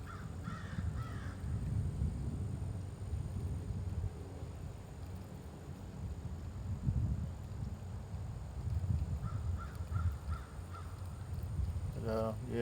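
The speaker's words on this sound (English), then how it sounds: "When you hear the birds, the sounds and the frequencies from the birds," Crows caw in short bursts at a distance over a steady outdoor rumble of wind, with other birds calling faintly, while someone talks through most of it.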